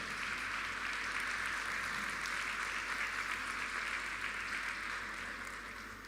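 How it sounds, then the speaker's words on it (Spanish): A church congregation applauds together during a service, a dense, even wash of clapping held steady for several seconds before easing off slightly at the end. "Démosle un aplauso al Señor"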